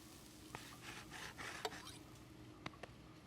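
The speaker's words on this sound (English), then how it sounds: "Happy with the recipe, Chef Pischetti grilled a test burger." A test burger grilling in a cartoon kitchen, giving a soft, steady sizzle with faint scraping and a few light clicks and taps scattered through it.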